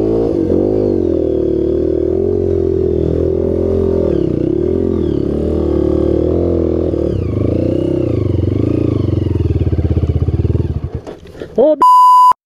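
A Honda CRF 230F dirt bike engine revs on a trail ride, its loud, close drone rising and falling in pitch for about ten seconds before sputtering out, with a short electronic beep near the end.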